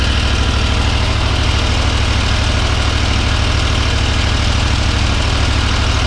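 A Kawasaki engine on a John Deere 960M mower idles steadily at close range, a loud, even low rumble with a fast regular knock-like pulse throughout and no talking.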